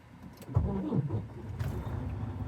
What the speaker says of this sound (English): Okay, so I just cranked the engine and we're going to build up some air.